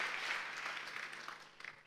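A church congregation claps in thanks during a testimony, a dense, steady patter of many hands that fades slightly toward the end, with no talk over it.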